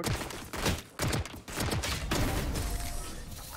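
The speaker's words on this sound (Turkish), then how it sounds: "Stinger'la o mesafeden adam vurdu lan" Rapid bursts of Stinger submachine gun fire in the Valorant video game, dense crackling volleys that stop and restart several times, loud and close with no speech over them.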